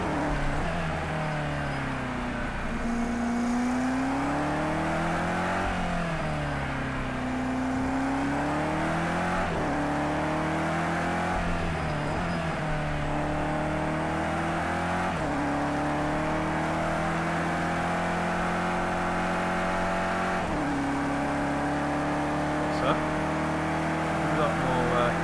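A race car hums along at an easy, steady pace on a Project Cars 2 out lap, the engine note rising and falling smoothly through gears and corners, loud and continuous, with someone talking over it.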